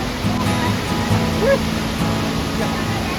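Steady roar of rushing water from nearby Devkund waterfall, broad and constant, with faint voices and wind mixed in.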